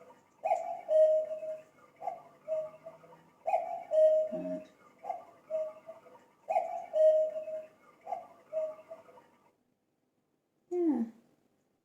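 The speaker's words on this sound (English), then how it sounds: "I left my cuckoo clock. It's actually 10 o'clock. It'd be interesting to know how many cuckoos it does." A cuckoo clock calls its two-note cuckoo again and again in an even rhythm, close and clear in a quiet room, with a short spoken word and a soft knock near the end.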